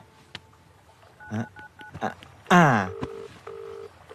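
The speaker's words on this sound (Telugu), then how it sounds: "రింగ్ అవుతుంది." A telephone rings in a Telugu TV drama scene, giving short bursts of electronic tones that start and stop, with brief louder sounds between them.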